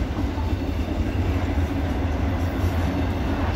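CSX autorack freight cars, one a vintage Burlington Northern car, roll past in a steady, loud, continuous rumble with low wheel noise and no pauses.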